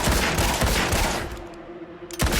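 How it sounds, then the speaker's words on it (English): Gunfire in the game Fable 2, a loud rapid burst of shots up close that trails off into a ringing tone, then another short blast at the end. "let's just fill them full of bullets and that'll work"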